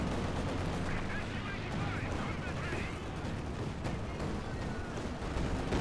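Gunfire from a T-70 light tank in Company of Heroes 2 cracks through a dense, continuous wall of battle noise, with repeated shots and booming artillery-like blasts layered over a steady rumble.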